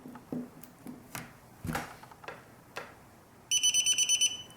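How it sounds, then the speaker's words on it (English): Dragon Link V3 radio system beeping as it connects to its receiver, a rapid run of short, evenly spaced electronic beeps coming in after a few scattered clicks and handling noises. "As you can hear, we've got beeping saying that it has made the connection."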